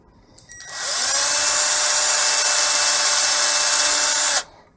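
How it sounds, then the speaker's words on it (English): A drill fitted with a wood brad bit bores into a board for a solar charge controller build, spinning up after a few small clicks into a loud, steady high-pitched whine that holds for about three seconds and then stops abruptly. "I'm using a wood brad drill to keep the center neat"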